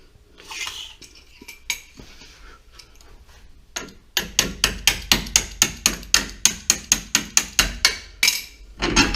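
Impact wrench rattling big trailing arm bolts on a Ram 1500, scattered bursts at first, then a fast, loud run of regular hammering blows close by.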